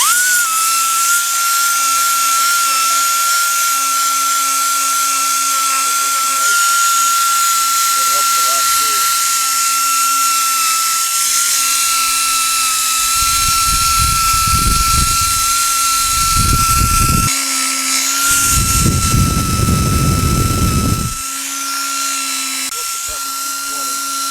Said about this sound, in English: Got a sander here we're going to use too